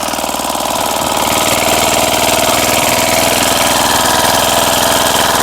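A small walk-behind tractor engine runs loud and close during plowing, chugging in a fast, steady rhythm.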